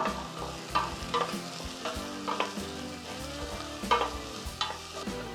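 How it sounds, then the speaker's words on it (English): Finely chopped onion sizzles and fries in oil in a pan for chilli con carne, a steady crackling hiss broken by scraping stirs and clatters of a utensil against the pan, close and moderately loud with no talking. "Then into the same pan goes one onion chopped up finely"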